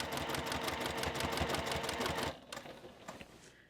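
A sewing machine stitches binding around a quilt edge, with a steady, rapid needle rhythm for about two seconds before it stops, followed by a few soft clicks and handling sounds.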